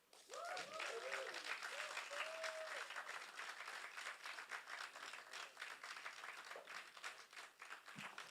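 Sustained applause from an awards-night audience, a steady dense wash of clapping with a few brief voices and whoops near the start, fairly distant and even throughout.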